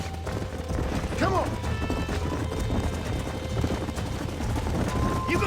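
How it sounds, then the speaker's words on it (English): Horses gallop in Red Dead Redemption, a rapid continuous drumming of hooves with a brief whinny, while someone shouts over the herd. "There's the horses! Get that lasso ready!"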